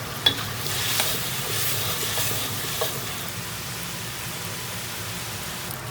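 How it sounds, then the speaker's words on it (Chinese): Pork intestines stir-frying in hot oil in a wok: a loud, steady hiss and crackle of sizzling fat throughout, with a few sharp scraping clicks from stirring near the start. "小肥肠先给它爆香。 一定要把它煸香，油脂煸出来哈。"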